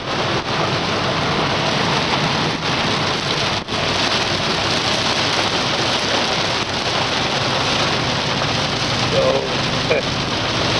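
Torrential summer rain pours down in a dense, loud, unbroken roar that holds steady throughout, with faint scattered knocks beneath it.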